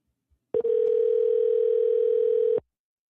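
A single steady telephone tone sounds on a call that goes to voicemail, clear and even for about two seconds before cutting off abruptly, with no talk over it.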